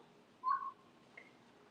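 Amboro, a mimicking bird at Blank Park Zoo, gives one short, clear whistled note up close, then a fainter brief chirp a moment later, in otherwise quiet surroundings.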